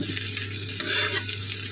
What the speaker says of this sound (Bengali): এবার আমি একটু নাড়াচাড়া দিয়ে নিই, ভালো করে একটু একটু কষাবো।